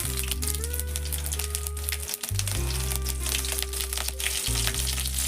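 Green chilies drop into hot oil with spluttered mustard seeds, giving a crackly sizzle and crinkly frying noise under a steady low hum, with a brief dip midway.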